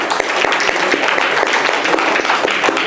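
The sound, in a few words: applause for the festival organizer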